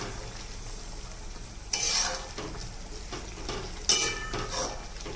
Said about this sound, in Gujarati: આપણે ભાજીને હલાવી લઈશું।